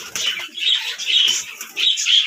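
Pigeons inside their coop, a close series of soft rhythmic cooing and fluttering bursts repeating about every half second, with no talking.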